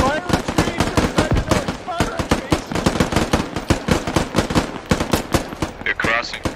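Rapid, sustained bursts of automatic gunfire from the video game Squad, loud and close, with sharp shots firing in steady rhythm throughout and a voice briefly audible beneath the shooting.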